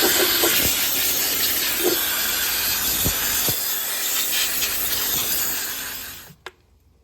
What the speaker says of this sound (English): It's always a good idea to use some compressed air to clean out the area first